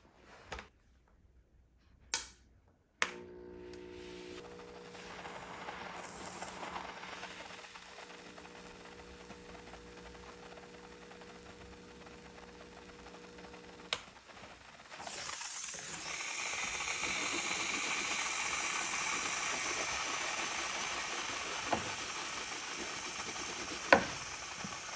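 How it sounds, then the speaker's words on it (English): A Black & Decker carpet steamer heats up, a few clicks and a tonal whine giving way to a steady, growing hiss of steam that continues with occasional sharp pops. "Heat up the Black & Decker steamer."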